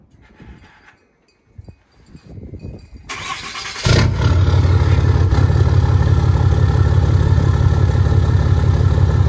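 A Cummins diesel truck engine, not fully cold, cranks and catches after a few seconds of quiet shuffling, then settles into a loud, close, steady low idle that fills the rest of the clip.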